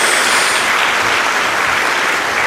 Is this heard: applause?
yes